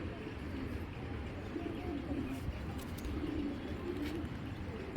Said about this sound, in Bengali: একেবারে ইয়াং কবুতর